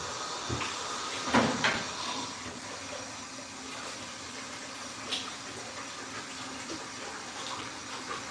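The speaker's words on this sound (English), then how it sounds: "I've got to rinse this pot now" Water runs and splashes as a burnt pot is rinsed, a continuous wash with a few knocks and clunks of the pot standing out near the start.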